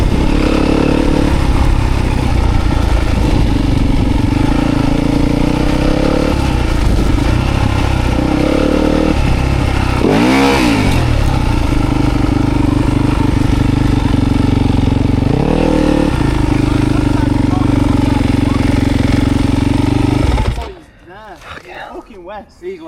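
A pit bike engine revs loudly and continuously while being ridden, with rising and falling throttle bursts and clattering, before cutting off abruptly near the end.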